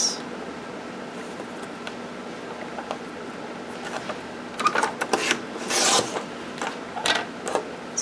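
Paper being trimmed for an accordion-style envelope journal gives a steady, close scraping and rasping, with a few sharper cutting strokes and rustles near the end.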